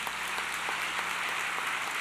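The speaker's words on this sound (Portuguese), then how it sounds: "Pode aplaudir São Paulo." Congregation applause during a Catholic homily, a steady, even hiss of many hands clapping at moderate level with no speech over it.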